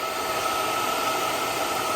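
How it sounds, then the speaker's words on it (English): Steady, loud blowing whoosh of a hair dryer running continuously while melting wax into a canvas satchel, with no voices. "Now I'm going to burn it in there with the hairdryer, melt it all in"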